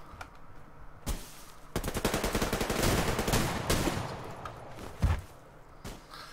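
Gunfire from the video game Suvarium: a few sharp single shots break out, then a dense, rapid rattling exchange of automatic fire, followed by more isolated loud cracks, all close and loud.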